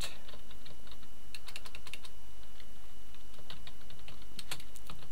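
Steady typing on a computer keyboard while entering code for an iOS app, with quick irregular clusters of key clicks close to the microphone and no talking.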